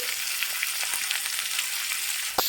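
Ginger, garlic, green chili and onion sautéing in a pan, a continuous crackling sizzle with faint stirring scrapes and one sharp clatter near the end, no voices.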